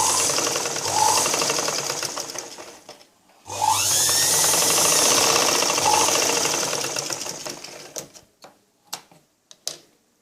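Sewing machine stitching a blouse, running in two loud sustained bursts of rapid mechanical whirring separated by a short pause, followed by a few brief sharp clicks and knocks as it stops.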